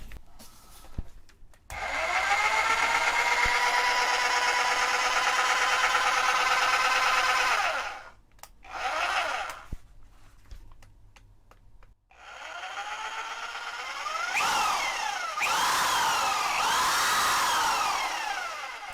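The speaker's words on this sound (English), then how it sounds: "I'll plug it in and make sure it actually works" REMS Tiger ANC industrial reciprocating pipe saw running in loud sustained bursts with motor whine, stopping briefly, then restarting with rising and falling pitch sweeps.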